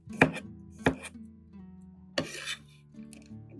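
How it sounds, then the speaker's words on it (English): A knife cuts through garlic on a cutting board in a quiet kitchen, a few sharp, separate chops with short pauses between them, close and clear. "First, slice the garlic into thin, not too thick slices."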